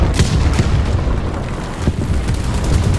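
Bombs explode in a War Thunder arcade tank battle, sounding as dull, rumbling booms over constant low battle noise, with several soft thuds spread through a few seconds.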